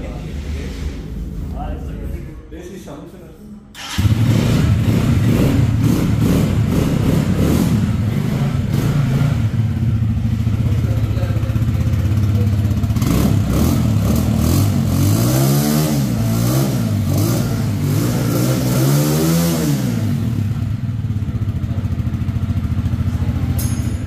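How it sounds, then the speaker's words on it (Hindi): A Keeway Superlight 200 motorcycle engine fires up after a brief pause, then idles loudly with several sharp revs rising and falling, close by. "इस बाइक को स्टार्ट करते हैं और चेक करवाते हैं आपको इसका साउंड"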